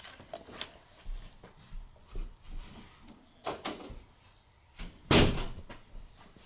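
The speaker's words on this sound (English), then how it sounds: "let me go close the door real quick" An indoor door is closed: scattered soft knocks and handling thumps lead up to one louder, sharp slam near the end, followed by a few quieter bumps in a quiet room.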